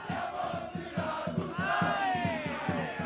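A crowd of Siracusa football fans in Ortigia greets the team's arrival with rhythmic chanting and drum-like beats, plus a rising whistle or horn, heard at a moderate distance.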